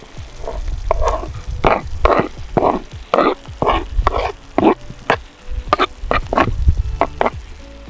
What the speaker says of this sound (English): okay, and we stir like that, just kind of you mix it